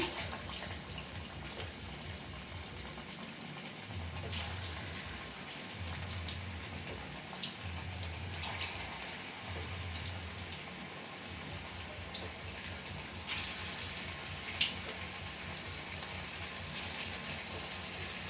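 Chicken pakoras sizzle in hot oil as pieces are dropped in one at a time, a steady close crackling hiss like light rain, broken by a few soft low thuds.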